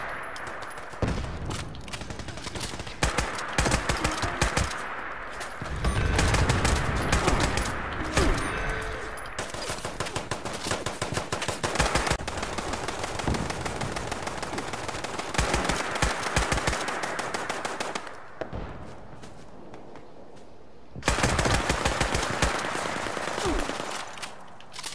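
Video game gunfire from enemies, dense bursts of rapid automatic shots rattling in long stretches with brief pauses between volleys, loud and close.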